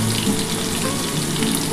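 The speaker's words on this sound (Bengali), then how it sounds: "এবার আলুগুলো ভেজে নিচ্ছি বন্ধুরা।" Potatoes frying in oil, a steady close hiss and crackle of sizzling that holds evenly throughout, with no voices.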